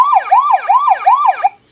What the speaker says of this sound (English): So this guy over here is the siren.